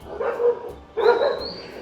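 Two dogs barking at a monkey on a mountain property, two loud close yelping barks about a second apart, the second with a thin high whine.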